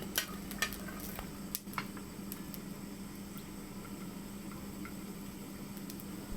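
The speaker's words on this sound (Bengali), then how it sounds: "দেখুন রসুনগুলো অনেকটাই ফ্রাই হয়ে এসছে" Garlic cloves frying in a pan for a spicy Bangladeshi garlic-chili mash, giving a steady soft sizzle with a few sharp crackles and utensil taps near the start, no voices.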